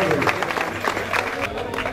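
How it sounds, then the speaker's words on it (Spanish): A crowd applauds at a Santiago Teide vertical trail race ceremony, a short, muffled patter of clapping mixed with a steady low hum and murmur of voices. "un aplauso para todos"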